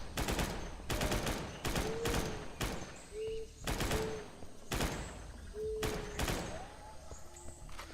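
Assault rifle gunfire in the dinosaur shooter game Primal Carnage: Extinction, sounding as loud, close bursts of rapid shots that repeat throughout, with brief gaps between volleys.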